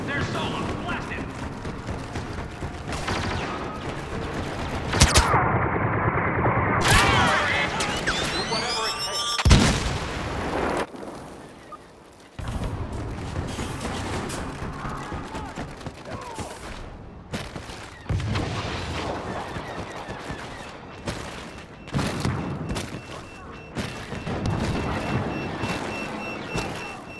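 Blaster fire rattles through a firefight in Star Wars Battlefront (2015) on Cloud City, Bespin: dense, rapid volleys with heavy booming explosions, nearly continuous for the whole stretch, with voices mixed in.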